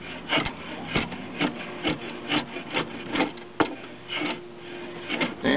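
Repeated rasping strokes of a drawknife shaving and rounding square wooden edges, a steady rhythm of scraping pulls, close and moderately loud.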